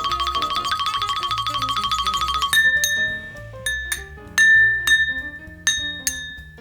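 A spoon stirs food coloring in glass bowls for homemade play dough, giving a fast, steady run of bright clinks, then separate ringing pings and taps close by, with no talking.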